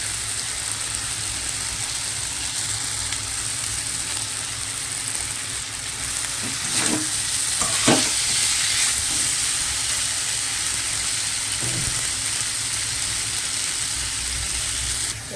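Cabbage sizzles and fries in a pan with potato and bori, a steady close hiss with a few brief stirring clatters midway, no talk.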